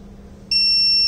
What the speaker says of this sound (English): So if temperature increased more than 42 or 45, it will give buzzer alert.